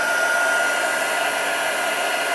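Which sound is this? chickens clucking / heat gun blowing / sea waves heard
heat gun blowing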